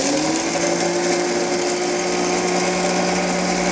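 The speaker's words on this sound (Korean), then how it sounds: "그러면 콩을 분쇄기에 넣겠습니다. 네. 자, 뚜껑을 닫고 자 분쇄를 켜겠습니다." A general-purpose electric grinder, not a dedicated coffee mill, grinding roasted coffee beans with its lid closed, a loud, steady motor whine and whir throughout, heard alone.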